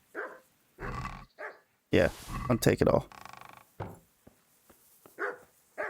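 A dog in Kingdom Come: Deliverance gives several short, loud barks and growls in separate bursts, and someone talks between them.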